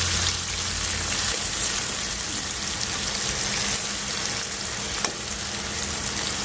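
Chopped onions and green chilies hit hot oil in a pan alongside fried fish, producing a loud, steady, close sizzle with a faint stirring clink, and no one talks.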